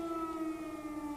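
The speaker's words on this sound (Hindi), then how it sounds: "ये एयर रेड सायरन्स की आवाज़ है।" An air raid siren wailing steadily in Brovary near Kyiv, a sustained tonal drone heard at moderate distance with no voices over it.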